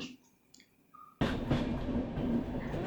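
A passenger train travelling from Bangalore to Udupi through a tunnel-rich route sits quiet with a few faint tones, then suddenly bursts into a loud, steady rumbling roar of the moving carriages that continues to the end.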